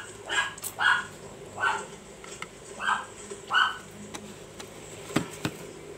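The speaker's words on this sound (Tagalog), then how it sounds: "Ingay ng aking doggy" A pet dog barks in short repeated bursts, about five or six loud close barks spaced unevenly, with quieter yips and whimpers between them.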